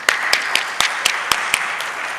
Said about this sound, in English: may I request everyone to give her a round of applause